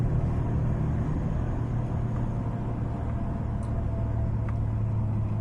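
A Toyota Vigo pickup with a shaking engine and stumbling acceleration is driven on a road test. It gives a steady, loud low rumble of engine and road noise that holds without pause throughout.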